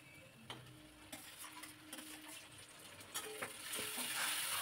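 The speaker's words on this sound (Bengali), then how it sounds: "তো এগুলো একটু ব্রাউন করে ভেজে নেব।" Ingredients browning in hot oil for chicken ghugni, with a bay leaf nearby, sizzle steadily while a utensil stirs through them in several scraping strokes. The frying hiss swells toward the end, close and moderately loud, with no talking.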